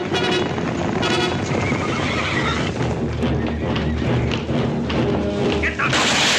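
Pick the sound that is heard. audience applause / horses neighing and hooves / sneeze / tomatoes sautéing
horses neighing and hooves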